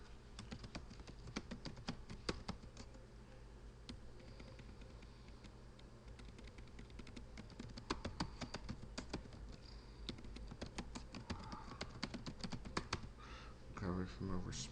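Steady clicking of computer keyboard keys as alt text is typed for an image in a blog editor, continuous close patter throughout with brief pauses.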